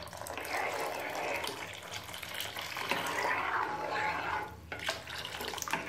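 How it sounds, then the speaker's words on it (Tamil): Coconut milk being poured into a pan on a low flame while making an agar agar coconut milk and palm sugar pudding, a steady continuous liquid pour with a soft sizzle that stops briefly near the end. "இப்போ நம்ம கோகோனட் மில்க் சேர்த்துடலாம்"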